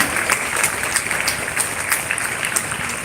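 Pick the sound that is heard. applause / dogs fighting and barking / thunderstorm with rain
applause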